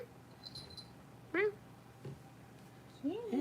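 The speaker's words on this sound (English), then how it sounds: "It's a kitty." A kitten named Smokey gives two short, clear meows about two seconds apart, the second drawn out and wavering, close by over a low, steady background hum.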